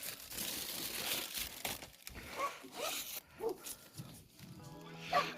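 Backing film is peeled off a sheet of Solarplexius window tint for a VW Passat B6 Variant, producing a long crackling, zipper-like rip in close-up, with low talk nearby.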